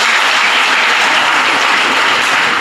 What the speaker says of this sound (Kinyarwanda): tumukomera amashyi mubyeyi